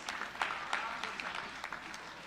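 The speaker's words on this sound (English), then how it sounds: "Ladies and gentlemen, let's give them a big round of applause." An awards ceremony audience applauds steadily, a dense wash of many hands clapping at moderate distance with a few sharper claps standing out, sustained throughout.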